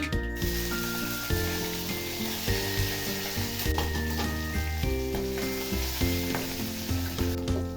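Finely chopped green chillies and curry leaves crackle and hiss continuously in hot oil with cumin, a steady close sizzle running under prominent background music.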